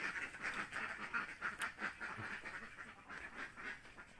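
Ducks kept for sale quack faintly in a repeated, irregular chorus against quiet background noise, with no talking.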